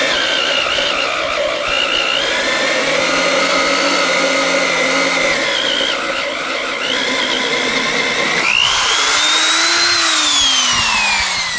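A drill press bores through a log for spiral log stairs, a loud steady motor whine with grinding that holds for several seconds and then shifts pitch as the bit works through the wood.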